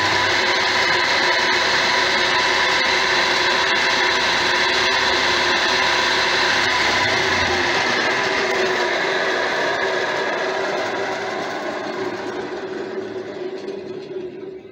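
The electric motor driving a homemade flywheel generator runs with a steady, loud mechanical hum and whine that stays constant, then fades slightly toward the end.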